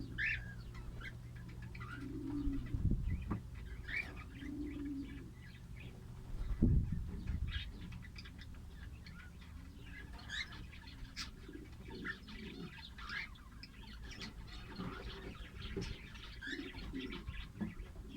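Pigeons coo softly and repeatedly at a moderate distance while being fed, with faint chirps and rustling around them and no talking.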